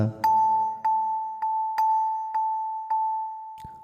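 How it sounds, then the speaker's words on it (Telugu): An electronic keyboard on its bells voice plays the same bright note six times in steady succession, each strike ringing on into a sustained tone, clear and close. "ముందుగా బెల్స్ వాయిస్లో ఇలా వస్తుంది"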